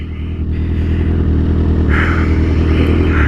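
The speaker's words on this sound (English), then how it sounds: "we're gonna go hard on the highway" A 2008 Suzuki GSX-R 1000 sport bike runs hard at highway speed, its engine giving a loud, steady, close-up roar over heavy rumble and wind noise, with a brief rise in pitch partway through.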